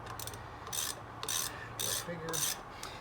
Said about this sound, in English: I'll be using a torque wrench to put this back together this time